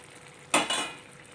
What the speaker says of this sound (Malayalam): മാരിനേറ്റ് ചെയ്ത് വെച്ചപ്പോൾ ഉള്ള അതിൻ്റെ ആ ജ്യൂസും കൂടി ഇതിലേക്ക് അങ്ങ് ഒഴിച്ചു കൊടുക്കാം